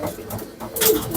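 Pigeons on a rooftop loft, birds of a single home-bred bloodline, give a brief soft cooing call with a flutter of sound toward the end, close and moderately loud.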